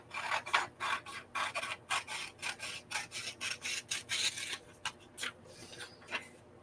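Paper journaling cards are trimmed with quick repeated rasping cuts, close and quiet, in a steady rhythm of short strokes with brief gaps.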